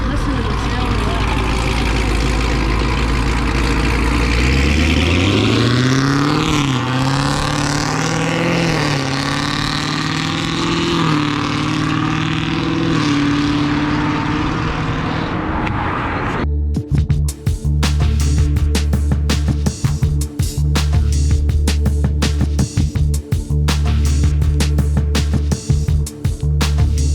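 A supercharged, cammed Pontiac G8 GT V8 runs loud and close, rising in pitch as it revs up, then settling into a choppy, lumpy cammed idle with rapid pulsing beats.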